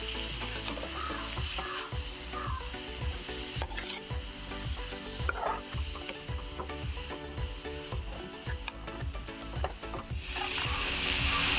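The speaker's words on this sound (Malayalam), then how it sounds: "നമുക്ക് നന്നായിട്ട് ഒന്ന് ഇളക്കിയെടുക്കാം." Chopped bitter gourd and grated coconut are stirred in a pan for thoran, with rapid repeated scraping and knocking of a spoon against the pan over a steady sizzle, close and continuous.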